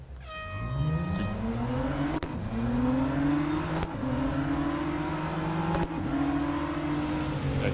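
A Radical RXC race car in Real Racing 3 revs hard, its engine pitch climbing steadily and repeatedly across several gear shifts, loud and continuous with no talking.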